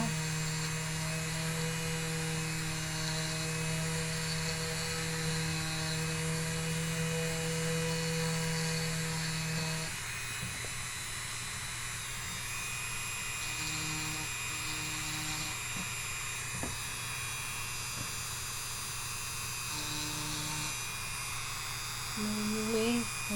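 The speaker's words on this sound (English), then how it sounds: "I have it on 2, which is the lowest setting I got on this Dremel" A Dremel rotary tool on its lowest speed setting grinds lightly at wooden headrest filigree, a steady close whine and hum with pitch shifting partway through as the load changes.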